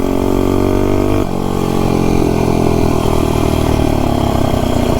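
A Tillotson T225 kart engine fitted with a Shred cylinder head runs hard and loud nearby, a steady buzzing drone that drops briefly and then climbs again in pitch as it pulls up a hill.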